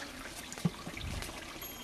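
Holy water trickles and pours steadily during a blessing ritual, soft and close, with a faint low bump partway through and no talk.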